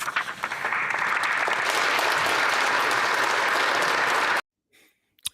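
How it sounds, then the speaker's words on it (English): Sustained applause in a parliamentary chamber, a dense, even roar of many hands clapping for about four seconds before cutting off abruptly into near silence. "We all clapped."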